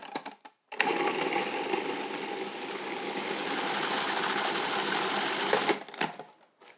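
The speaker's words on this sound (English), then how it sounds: "It's as simple as putting it in the food processor." Food processor running steadily on raw marinara sauce for about five seconds, a loud continuous motor whir with a sharp start and stop, close by.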